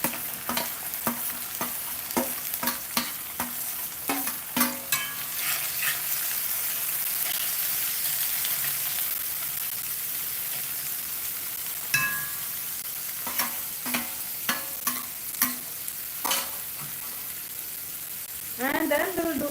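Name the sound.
mixed vegetables frying and stirred in curry gravy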